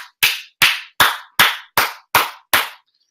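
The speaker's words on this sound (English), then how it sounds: "So basically 10 really loud claps" A person claps hands in a series of sharp, loud, evenly spaced claps, about seven or eight in quick succession, each ringing briefly before the next, followed by silence.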